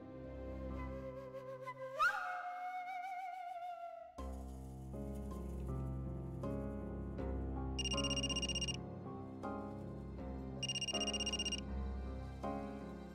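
A telephone rings repeatedly and goes unanswered, bright electronic ringtone bursts repeating over a steady musical score from a Marathi TV serial.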